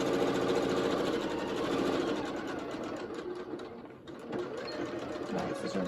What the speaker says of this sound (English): Back stitch over my elastic and a back stitch over my edge.